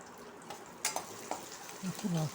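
Slit green chillies sauté in a pan for a fish curry, a soft, faint sizzle with a few light stirring taps and a brief low hum toward the end.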